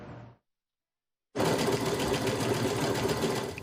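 Sewing machine stitching pieces of quilt fabric, a steady loud mechanical whir with rapid needle rhythm after a brief pause, running continuously without talk.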